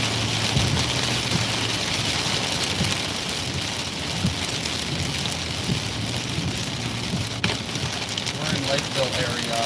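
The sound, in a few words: heavy rain during a storm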